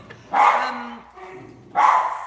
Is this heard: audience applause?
no